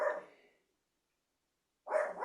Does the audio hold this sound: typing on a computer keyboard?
no